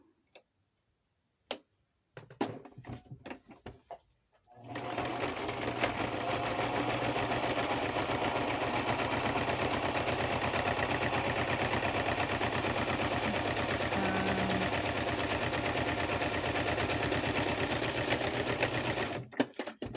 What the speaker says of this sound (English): Let me just get my sewing machine